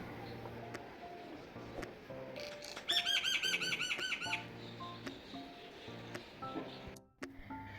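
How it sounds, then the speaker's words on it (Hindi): Faint outdoor morning birdsong in Pakistan: scattered sparrow chirps, then a rapid run of harsh, repeated crow calls for a second or so, over steady low background tones. "सिर्फ चिड़ियों की और कौवों की सुबह सुबह आवाज़ आती है"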